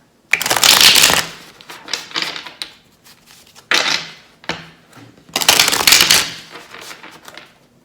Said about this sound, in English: I'll shuffle until it gets to 2:22, just for fun.